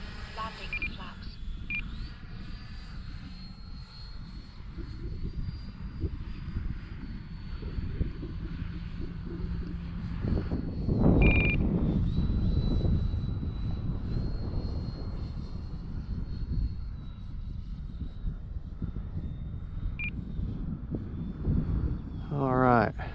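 An X-Fly Sirius RC airplane flies at sunset, its electric motor whining steadily as it passes, with wind noise over the microphone and a few short beeps.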